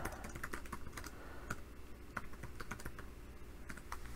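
Keystrokes on a computer keyboard entering a Linux terminal command, a steady run of quick, close clicks with a few louder taps and no talking.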